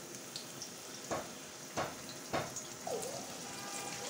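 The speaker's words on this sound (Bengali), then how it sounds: "পেঁয়াজটা আমি লাল লাল করে ভেজে নেব" Chopped onion frying in oil in a kadai, a steady soft sizzle with a few sharper crackles and spatters standing out near at hand.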